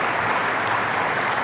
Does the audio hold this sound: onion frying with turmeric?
no